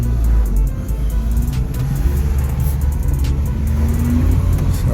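Salvage car bought from Copart UK driving along a road, steady low engine hum and tyre rumble inside the cabin, with faint clicks and light road noise, no talking.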